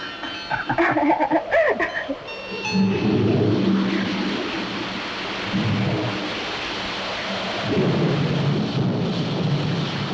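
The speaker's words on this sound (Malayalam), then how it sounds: "മഴയും കാറ്റും കൂടി വരുന്നുണ്ട്" Heavy rain pours steadily with wind, broken by loud rumbling thunder claps near the start, a close and continuous downpour with no talking.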